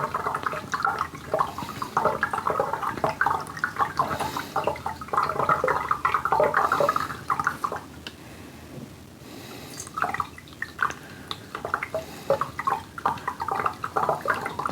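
Tap water pours loudly into a storage barrel as it is filled, a steady rushing and splashing with gurgling bubbles that rises and dips without pause.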